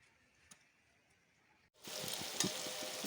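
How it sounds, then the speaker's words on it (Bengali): Pointed gourd slices frying slowly with spices in oil, a steady close sizzle that starts abruptly partway through after a quiet stretch, with faint stirring clicks over the hiss. "কতগুলো পটল ভাজবো মশলা দিয়ে আস্তে আস্তে ভাজা হোক"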